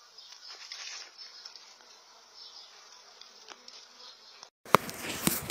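Honeybees swarming around beehive frames in the Sertão, producing a steady, moderately quiet buzzing hum for several seconds. It is followed by a sudden, louder burst of close rustling and handling noise.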